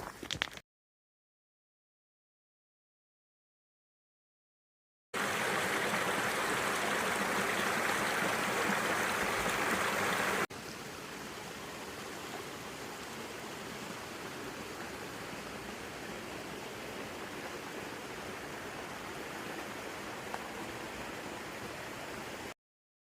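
Small waterfall and stream along the Appalachian Trail, a steady rushing hiss of falling water that is louder at first, then settles into a softer continuous flow, with no voices.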